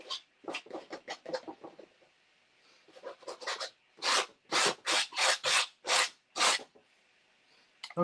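A palette knife scrapes over dried acrylic paint in a series of rasping strokes, quick short scrapes at first, then longer, louder, evenly spaced passes, close and alone with no voices.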